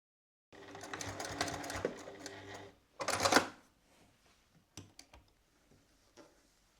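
A sewing machine topstitches a jacket, its fast steady mechanical stitching running close and clear for a couple of seconds, then a short louder burst, followed by a few scattered clicks and taps.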